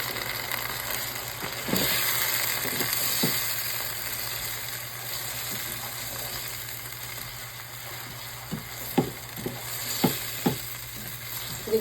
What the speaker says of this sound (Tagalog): Or gisa natin ng konti.